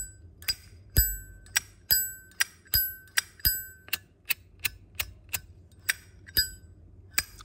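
A 2007 Zippo lighter in original, unrepaired condition chimes as its lid is flipped open again and again, about a dozen sharp metallic clicks and rings spaced under a second apart, close and crisp against a quiet background.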